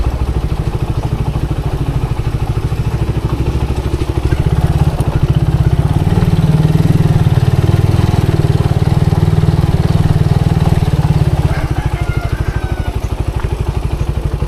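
A motorcycle engine idles close by with a rough, chugging putter, rising slightly in the middle and then settling back, with no voices.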